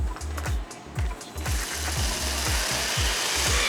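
A power drill fitted with a bristle brush scrubs the bottoms of sneakers, with a rapid ratcheting whir pulsing about twice a second, then a broad, loud brushing hiss that grows steady and close.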